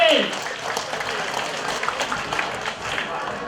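Audience at a community fundraising event applauding to welcome a speaker, a steady ripple of clapping from a crowd filling the room, with a voice speaking briefly at the start.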